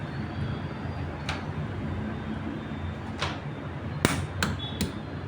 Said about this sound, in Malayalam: ഒരു മുട്ടയും കൂടി ഞാൻ ഇടുവാണ് കേട്ടോ.